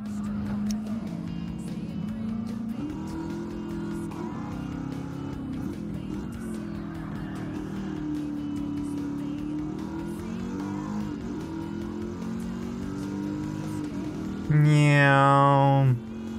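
A Gran Turismo 7 race car engine drones steadily throughout, pitch rising and dipping with gear changes, under a voice talking, ending in a brief loud high rev.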